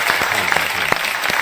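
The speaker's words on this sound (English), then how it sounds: "can you get a clap?" A gathered audience applauds a class, a brief, even burst of many hands clapping at moderate distance with a few sharper individual claps standing out.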